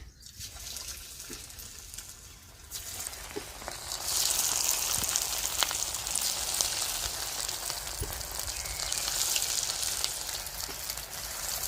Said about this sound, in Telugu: ఒక్కొక్క పీసెస్ అయితే ఇంకా ఆయిల్ వేసుకొని ఫ్రై చేసుకోవాలి